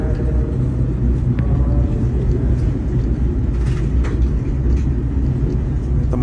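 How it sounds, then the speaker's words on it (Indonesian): The Sembrani executive passenger train runs at night after leaving Jatinegara station, heard from inside as a steady, loud low rumble of wheels and motion with no talking. "perjalanan kereta api Sembrani yang saya naiki telah diberangkatkan dari stasiun Jatinegara"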